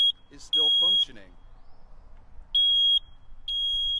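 A home smoke alarm sounds its test tone after the test button is pressed, giving shrill, piercing electronic beeps in short bursts with pauses between them, while a person speaks briefly early on.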